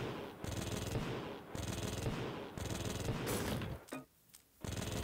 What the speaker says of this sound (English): I think this is not how torpedoes sound, but okay.